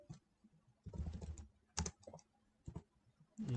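A command is typed on a computer keyboard in a few quick bursts of clattering keystrokes separated by short pauses, close and fairly clear, with no speech.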